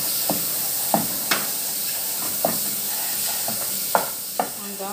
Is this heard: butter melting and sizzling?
yes